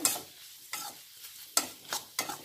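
Beef fry with red chili powder being stirred in a pan, with four separate scraping strokes over a steady low sizzle and no voices.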